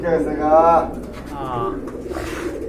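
Pigeons cooing in a pigeon market pen, two clear rolling coos close by, with someone talking over them.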